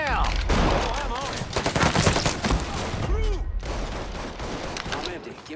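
Dense firefight in the video game Mafia III: overlapping gunshots and automatic bursts crackle loudly and continuously, with shouting voices mixed in among the shots.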